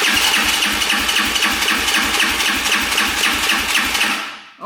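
A brand new ATV quad engine cranks over with the throttle held open during a compression test, a loud, close, rapid rhythmic chugging that runs steadily for about four seconds before winding down and stopping.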